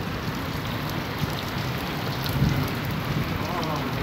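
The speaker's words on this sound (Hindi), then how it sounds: "इंडिया की तरफ से बरसात आ रही है," Steady rain pours down in a dense, even hiss with no break, with faint low rumbles underneath.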